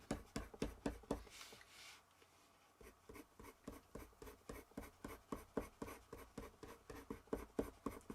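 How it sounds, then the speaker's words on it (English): Coloured pencils scratch across paper while a tiger's eye is being drawn, as dense rhythmic strokes in quick, even bursts, close and clear, with a short pause partway through and no voices. "I'm working the pencils a lot stronger than I was."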